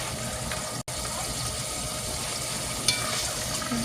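Food sizzles and fries steadily in a pan as it is stirred while cooking Spanish rice, a dense, constant crackle with a short gap and a light scrape of the utensil near the end.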